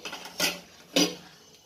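Vegetables are stirred in a cooking pot of boiling water for macaroni pasta, two distinct metallic scrapes of a spoon against the pot about half a second apart, close and without talk.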